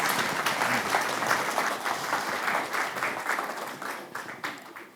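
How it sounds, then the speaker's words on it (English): Sustained audience applause after a panel session at a conference, steady and dense clapping that holds for the whole span before tapering slightly, with no speech on top. "A big applause for panel number one."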